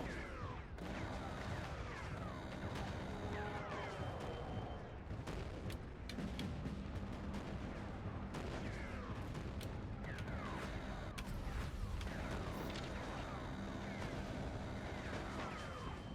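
A howitzer in the Mecha Knights: Nightmare video game fires amid dense battlefield noise, with repeated booming and crackling gunfire blasts layered continuously under a busy combat soundscape.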